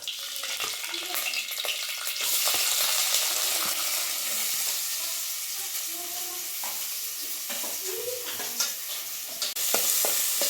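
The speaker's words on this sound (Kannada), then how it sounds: "ಈರುಳ್ಳಿನ ಚೆನ್ನಾಗೆ ಫ್ರೈ ಮಾಡ್ಕೊಂಬಿಡೋಣ" Onions and green chillies fry in a pan with a soft, hissing sizzle and scattered pops, while a spatula scrapes and stirs now and then.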